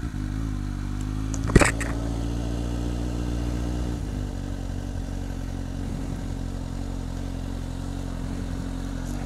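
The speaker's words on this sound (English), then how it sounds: "We got a motorcycle." A motorcycle just back from the shop rumbles nearby on a road at sunset, its low engine drone steady with a brief sharp blip around the second mark, then continuing to idle and roll along.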